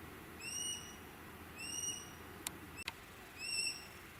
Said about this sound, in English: the calls of sharp-shinned hawks were in the woods